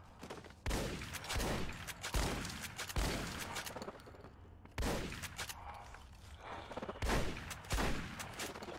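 Shotgun fire in Fallout New Vegas: six or seven loud, booming blasts spaced about a second apart, each ringing out into a long echoing tail before the next shot.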